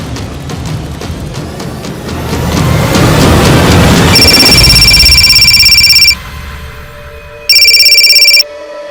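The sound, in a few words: telephone ringing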